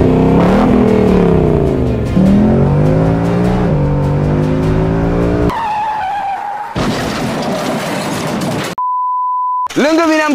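A Ford Mustang 5.0 V8 engine revving, loud rising and falling growls with sharp climbs in pitch, then a censor beep and another rev at the end, with people talking over parts of it.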